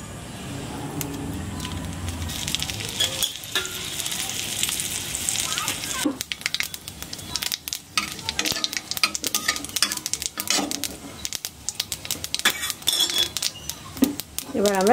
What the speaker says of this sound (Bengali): এবার সর্ষে ফোড়ন, গোটা সর্ষে, কালো সর্ষে,